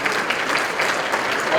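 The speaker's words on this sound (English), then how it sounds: "a round of applause for them as well" Brisk applause from a crowd at a mayor's business luncheon, loud and close, with a voice audible under the clapping.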